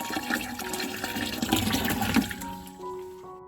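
Water runs from a tap into containers, a steady splashing gush filling close by, fading out near the end.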